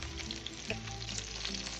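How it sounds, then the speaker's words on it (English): Chicken wings, seasoned and coated in plain flour, fry skin side down in a pan with a steady, close, dense sizzle and a faint clink partway through, no voices. "Pan fry skins side down until golden brown."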